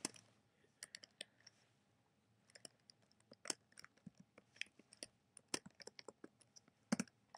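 Soft, irregular clicks of a computer keyboard being typed on, faint and close with uneven bursts of keystrokes and brief gaps, no voices.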